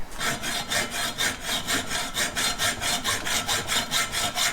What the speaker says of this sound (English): I think I am just going to use a hand hacksaw to do it.